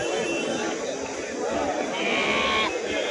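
Young rams bleat at a busy goat market, their calls rising over a dense crowd of chattering voices that nearly fills the background.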